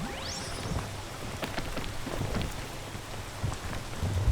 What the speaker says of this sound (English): do love that it started raining